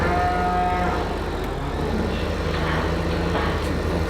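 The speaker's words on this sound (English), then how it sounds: "Cows. Sad life living in that little shed without a yard" Cattle lowing inside a small shed in the Caucasus-set farming sim, with long drawn-out moos rising over a steady farm ambience and low mechanical drone, continuous and fairly loud for the whole stretch.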